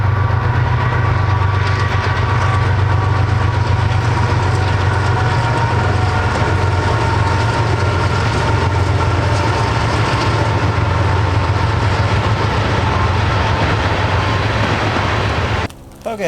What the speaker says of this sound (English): we do have a train getting ready to plow through